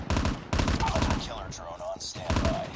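An M16 assault rifle fires in Call of Duty Mobile. Close, loud automatic bursts arrive in three quick clusters, separated by short gaps filled with softer game effects.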